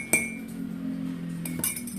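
A spoon clinks against a glass while measuring out herbal jamu powder, giving two sharp ringing taps, one near the start and another about 1.5 seconds later, over a steady low hum.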